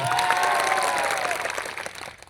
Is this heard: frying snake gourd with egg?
no